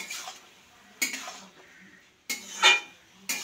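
Cauliflower and potatoes being stirred in a pan after its lid is lifted, with a few sharp clinks and scrapes of a utensil against metal cookware breaking up quieter rustling, close and moderately loud.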